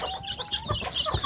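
Free-range village chicks and a hen cluck and peep close by while they eat feed, several short overlapping calls across a brief moment.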